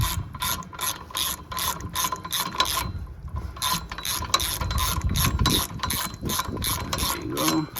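A hand ratchet clicks rapidly and rhythmically while undoing a wheel bearing bolt on a 2009–2015 Toyota Venza, close up, with the clicking pausing once and then resuming over some low mechanical rumble.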